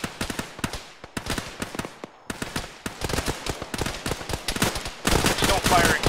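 Rapid bursts of gunfire from a BRDM armored vehicle in a military combat game, loud and close, firing in repeated stuttering volleys with short pauses, then a dense sustained burst at the end.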